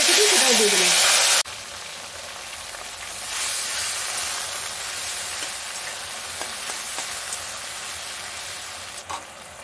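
Chopped onion frying in a pan, a loud sizzle bursting in after a voice, then settling into a steady crackling hiss with occasional clinks of stirring.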